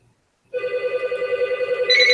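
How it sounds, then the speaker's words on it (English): A telephone rings loudly after a moment of silence, a steady trilling electronic tone that keeps going with no talking over it. "that darn phone been ringing off the hook already"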